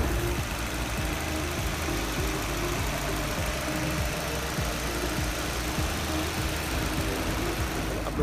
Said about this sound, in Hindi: तो चलिए देखते हैं गाड़ी को स्टार्ट करके।